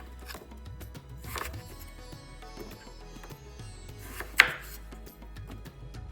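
A knife chops a vegetable into quarters on a cutting board for a vegan curry, with a run of close, soft cuts and taps and one sharper knock partway through, all without any talk.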